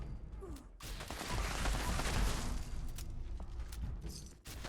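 An explosive pulse flamer fires in Fallout 76, a roaring, crackling burst of flame and blasts that swells to a loud sustained rush for a few seconds, then cuts off abruptly.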